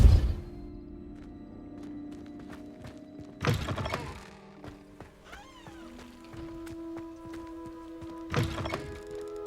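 The Repulsor spell is cast in the wizarding game Hogwarts Legacy, giving two heavy, forceful thumping bursts a few seconds apart over a quiet bed of sustained musical tones.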